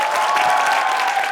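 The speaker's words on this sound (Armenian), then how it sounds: "Բարձր ծափարենք" An audience at an Armenian evening comedy show bursts into loud, dense applause, a bright, sustained wall of clapping close up.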